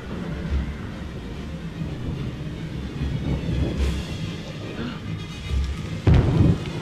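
Steady rain hisses over a Quidditch pitch in a Harry Potter video game, with a low rumble of thunder swelling briefly near the end; no voices are heard.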